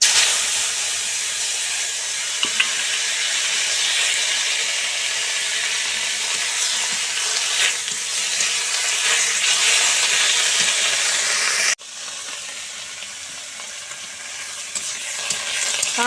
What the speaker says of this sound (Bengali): শাক ভাজা হয়ে গেছে সুন্দর করে,